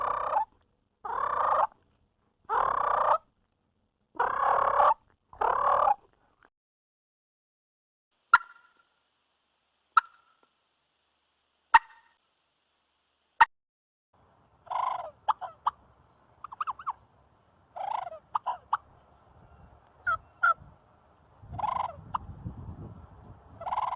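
A hunter's call imitating wild turkey clucks and purrs: a run of loud, evenly spaced raspy notes, then sharp isolated clucks, followed by softer rolling purrs mixed with clucks, close and clear with no talking.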